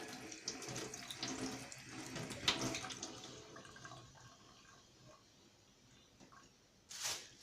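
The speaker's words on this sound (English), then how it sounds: "Then I'm going to wash my thyme." Thyme sprigs rinsed under a running kitchen tap, a steady splashing water stream with rustling and squishing of the herbs near the sink, fading before a brief final gush.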